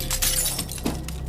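Loud, close crash of a body smashing into a car on a road, with glass shattering and breaking in a brief burst that quickly fades.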